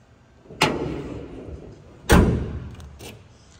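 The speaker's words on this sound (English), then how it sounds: "Trunk closes nicely." Trunk lid of a 1966 Chevrolet Chevelle SS 396 shutting with two solid, close thumps, the second heavier, followed by a lighter knock in a quiet setting.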